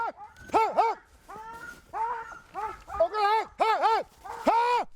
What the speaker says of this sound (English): Working with his dog team, Aviak strains to pull their skiff up the final hill